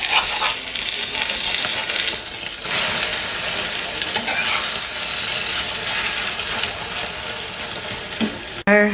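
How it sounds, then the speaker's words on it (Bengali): A duck egg fries in a hot wok with a loud, steady sizzle and crackle that runs nearly unbroken throughout, ending in a brief clatter. "এখন ডিমটা ফ্রাই করব।"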